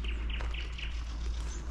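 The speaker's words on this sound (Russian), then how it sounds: "Как птицы поют." Birds singing outdoors on the grounds of an old palace in a small town near Moscow, a few bright chirps in quick succession over a steady low rumble.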